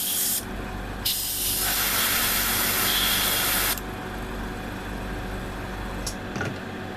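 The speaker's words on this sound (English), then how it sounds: "My airbrush is sputtering a little bit." Paint airbrush spraying V-color paint onto a 1:6 scale Tsukuda vinyl figure kit, a steady close hiss that cuts in and out in short bursts with an uneven, sputtering edge before fading to a quieter background.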